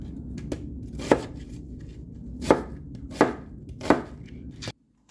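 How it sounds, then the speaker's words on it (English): Onions roughly chopped with a knife on a board for fire cider vinegar: four or five distinct, close thuds spaced irregularly over faint background handling, with no talking. "I'm gonna do my onions. I'm just roughly cutting these."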